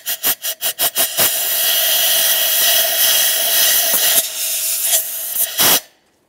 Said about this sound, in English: Let's clean this area. We'll use some compressed air.